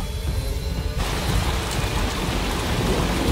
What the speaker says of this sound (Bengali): আর বৃষ্টির মাত্রাও তো বেড়ে যাচ্ছে।